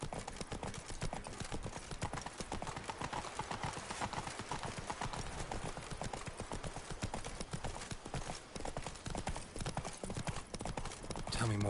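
Roach the horse in The Witcher 3 trots along with steady, rapid hoofbeat clip-clops throughout, close and continuous, with a voice speaking over the hooves.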